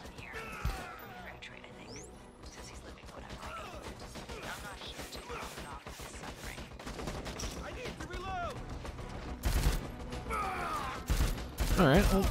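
Heavy gunfire from a big gun in Dead Rising 4, with dense rapid bursts and sharp cracks over a busy game soundscape that grow louder toward the end.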